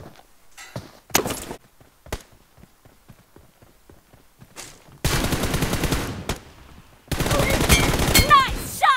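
Automatic gunfire from a team deathmatch video game: a few quieter scattered shots, then two long, loud, dense bursts of rapid fire close up.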